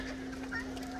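Chickens and geese on a farm cluck in a short, busy stretch, steady and moderately loud against a humming background.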